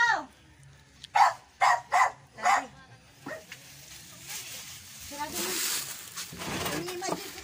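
A dog barks five times in a steady rhythm, close and loud, followed by rustling, whimpering noises and background commotion.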